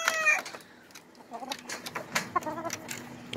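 Fighting rooster of the Araña line, nearby clucks and short throaty calls in quick uneven bursts, fairly faint, with a brief crowing cry at the start.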